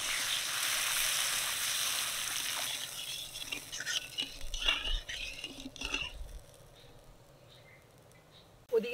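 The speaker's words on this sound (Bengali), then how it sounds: "তো এবার আমি জল দিয়ে দিচ্ছি" Water goes into a pan of curry cooking with onion, chopped tomato, green chilli and nigella seeds, giving a loud broad hiss and sizzle that settles into softer bubbling with scattered clinks, and ends on a sharp knock.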